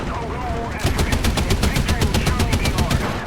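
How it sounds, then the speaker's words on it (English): A .50 cal machine gun mounted on an M8 HMC tank in War Thunder fires a long, loud, steady burst of rapid, evenly spaced shots that starts abruptly after a short lull and continues to the end. "God, this 50 cal is brutal."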